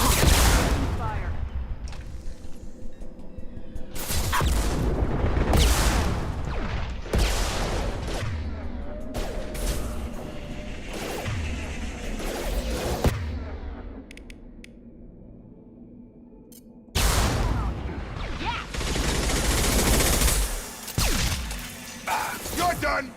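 Bursts of gunfire and crashing combat effects from the Mass Effect 2 video game, loud and dense, with some speech mixed in.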